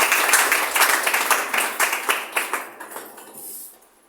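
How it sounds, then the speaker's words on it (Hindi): A crowd applauds warmly, with dense clapping that gradually thins and fades out over a few seconds. "प्रधानमंत्री के लिए जोरदार ताली होनी चाहिए।"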